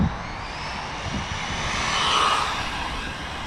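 Rlaarlo AK 917 carbon fiber brushless RC super car running full throttle, a high, sustained whine that swells and fades slightly as it passes at a distance, with no talking.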